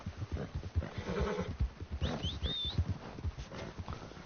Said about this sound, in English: This is gonna be a good temporary horse.